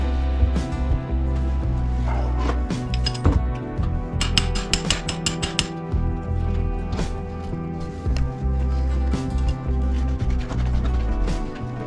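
A ratchet clicks in quick, uneven bursts close by while removing the wheel from a ZX6R motorcycle, with metallic clinks from the tools between the runs of ratcheting.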